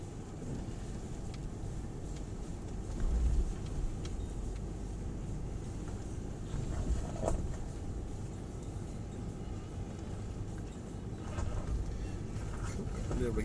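A Mercedes-Benz U17 4x4 rumbles steadily through a puddle off-road, its engine droning continuously with occasional water sloshes and bumps.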